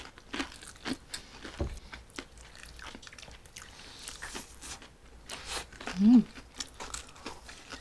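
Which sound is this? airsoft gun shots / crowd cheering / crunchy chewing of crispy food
crunchy chewing of crispy food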